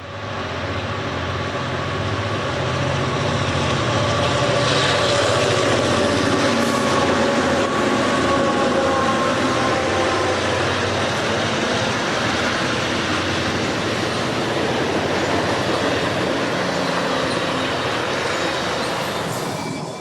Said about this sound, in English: we see eastbound Train Number 2 passing westbound Train Number 1 in the siding